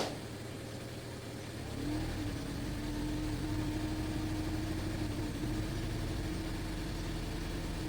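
A 2014 Kia Rio engine just after its throttle body was cleaned, idling steadily, then its hum rises and holds higher as the idle climbs on its own, close and continuous with no talking.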